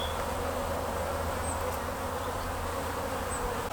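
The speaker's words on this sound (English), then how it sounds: "We know that this colony is doing well and lots of flying bees" A thriving honeybee colony buzzes around its hive, a dense, continuous droning of many flying bees close by, steady and unbroken with no voices.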